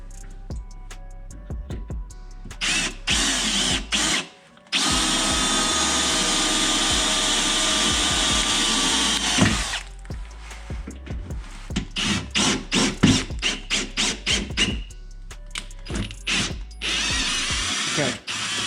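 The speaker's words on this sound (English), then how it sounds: "So I'm going to try to pre-drill a hole then." A power drill pre-drills a hole in hardened steel while reverse lights are fitted to a Jeep Wrangler JL Rubicon. Close and loud, it runs in short bursts, then a long sustained whine, then a string of rapid stuttering pulses.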